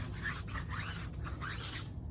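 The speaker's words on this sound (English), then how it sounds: "I've got my tire brush, just giving a good scrub." A tire brush scrubbing a Nissan Titan truck tire during a detail wash, quiet rhythmic back-and-forth rubbing strokes repeating about four times, close up and alone without speech.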